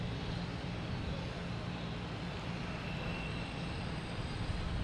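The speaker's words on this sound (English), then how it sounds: "Delta, Flight 58, on 15 right. A330-900 looks to be taking off." Delta Airbus A330-900 airliner taking off from runway 15 right at Boston Logan Airport, a distant, steady broadband jet roar that stays faint and continuous throughout.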